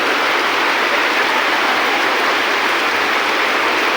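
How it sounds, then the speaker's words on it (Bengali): Sudden afternoon rain falls heavily after a hot day, a dense, continuous wash of broadband hiss with no breaks or voices. "শুধু বৃষ্টি আর বৃষ্টি, অধারে পানি পড়ছে।"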